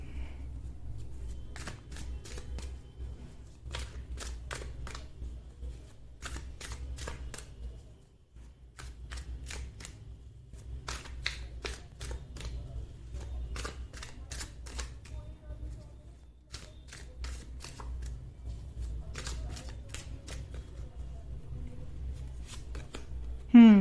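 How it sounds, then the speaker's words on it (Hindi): Tarot cards being shuffled in repeated crisp riffling bursts with short pauses between them, close and fairly quiet over a low steady background hum. "मैं कुछ और कार्ड्स भी निकालूंगी, देखते हैं क्या निकल के आता है"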